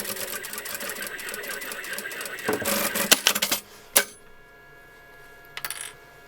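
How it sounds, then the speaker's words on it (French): A sewing machine stitches patchwork fabric for a quilted pouch in a fast, close mechanical whir, then stops with a few clicks and a brief burst of stitching afterward. "Et vous allez venir coudre maintenant."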